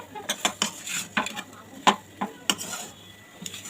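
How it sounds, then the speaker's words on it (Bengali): A spoon scrapes and clacks against a pot while a tamarind pickle mixture with turmeric is stirred, giving sharp irregular knocks and scraping strokes, close and alone. "এটাকে ভালো করে নাড়াচাড়া করতে হবে"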